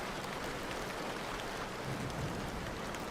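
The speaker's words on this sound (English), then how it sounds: "hearing the sound of raindrops tapping against the glass" Rain taps against a window pane in an even, unbroken wash of tiny drops, quiet and close with a faint low rumble underneath and no talking.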